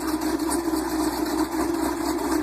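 A Dodge Super Bee engine idles steadily and close by, a low, continuous rumble with a slight uneven pulse running through it and no voices.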